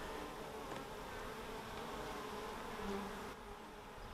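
Honey bees buzzing around an open beehive during a frame inspection, a dense steady hum close by with no talking, dropping slightly in level near the end.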